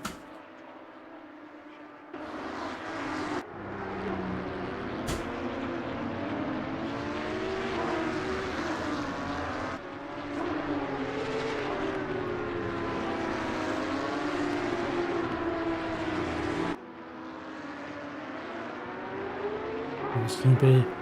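Porsche Cup race cars rolling off on the formation lap at Valencia in a sim racing game, a steady engine drone with rising and falling revs under continuous commentary.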